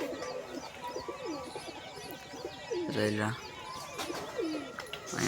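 Pigeons coo softly in low, throaty rolls, with someone talking over them and faint background noise.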